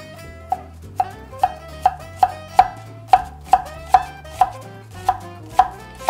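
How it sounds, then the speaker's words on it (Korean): An onion chopped with a santoku knife on a cutting board, a dozen crisp, evenly spaced knocks of the blade in a steady rhythm, close and clear. "먼저 산도쿠 나이프로 양파를 찹해 볼 건데요."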